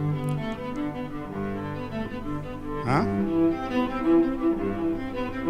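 A recorded Bach cello solo plays during a church talk, sustained bowed melodic lines with rich harmonics that carry on steadily, with a brief voice interjection partway through.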